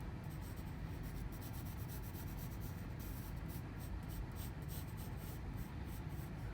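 A pencil lightly sketching a teardrop-shaped light bulb outline on paper gives a soft, steady scratching drawn out in faint repeated strokes, close up with no talk.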